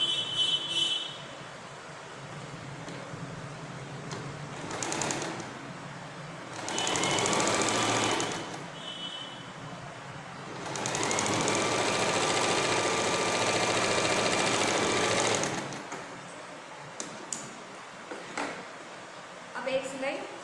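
Sewing machine stitching a blouse seam, running in two clear bursts of steady mechanical whirring, the longer one lasting several seconds, with quiet gaps and a few faint handling clicks between.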